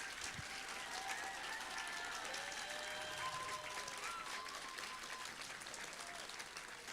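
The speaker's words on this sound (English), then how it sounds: "Let's give him a round of applause." An award ceremony crowd at a school gives sustained applause for a teacher, steady and fairly distant clapping with a few faint whoops and voices rising over it.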